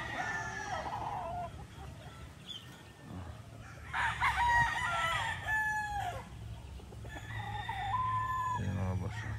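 Bulik game fowl roosters crow several times, clear mid-distance calls with drawn-out cock-a-doodle-doo phrases, over clucking and low farmyard background noise.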